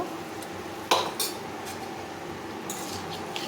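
Turmeric and spices stirred in a pan for rohu fish curry, a soft background hiss punctuated by a few metallic spatula knocks and scrapes against the pan.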